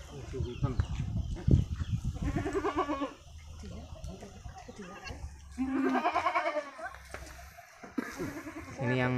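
An Etawa Kaligesing goat, newly delivered of twin kids, bleats in a few wavering cries close by, interleaved with people talking nearby and low background hum.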